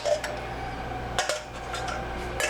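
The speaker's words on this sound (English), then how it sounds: "And we're dropping the peaches in there." Peaches dropped into a preheated pan on a stove, giving a few sharp metallic clinks and knocks of fruit against the pan over a steady low hum, with no voices.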